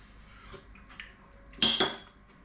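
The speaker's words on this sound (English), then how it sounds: "Give that a stir." Utensil stirring Kerala fish curry with panga steaks in a pan, soft scrapes followed by a louder metallic clatter against the pan rim, close and short.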